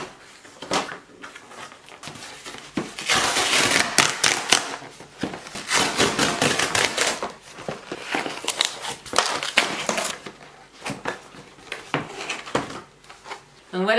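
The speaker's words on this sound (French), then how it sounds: "Donc là on va ouvrir du coup le colis." A small cardboard parcel box holding a connected bathroom scale being opened up close, with sustained tearing and crinkling bursts, rustles and scraping handling noises in irregular waves.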